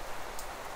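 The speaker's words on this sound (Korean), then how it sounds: "비가 많이 와도 엄청 좋네요" Heavy rain falls on a campsite during a storm, a dense steady hiss of drops pattering nearby on a tent and surfaces, with no voices.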